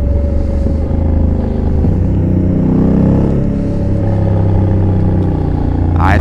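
A 2021 Honda Africa Twin with the DCT gearbox circling a race track, its engine a loud, steady drone close by, with pitch climbing sharply at the very end as the revs rise.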